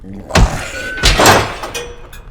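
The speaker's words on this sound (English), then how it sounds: "Let me just close this door." A heavy door swings shut in the medieval dungeon game Exanima, with a loud thunk followed by a second heavier knock and creaking rattle, close and fairly loud.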